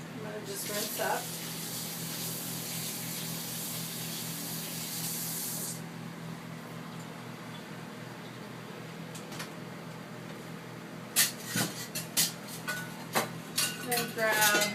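Dishes and utensils get rinsed at a kitchen sink during shortbread jam bar baking, with a steady spray of running water at first, then quieter rubbing and a burst of clinks and clatters near the end.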